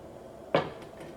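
A kalathappam pan set down onto a heated pan makes one short, close metallic clunk with a faint ringing tail in an otherwise quiet kitchen.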